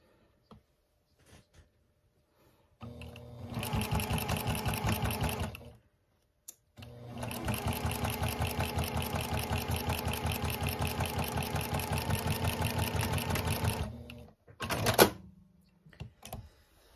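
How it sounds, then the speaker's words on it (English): A sewing machine stitches quilt binding in two long bursts of rapid, even needle chatter, close and clear, separated by a short pause and ending with a brief final run. "I'm just going to stitch this together."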